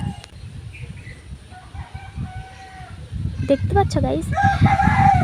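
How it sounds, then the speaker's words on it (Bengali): A rooster crows at a distance, heard from a rooftop, while a person talks nearby over faint outdoor background noise. "ওই দেখো ওইদিকে আমার মোরগ ডাকছে"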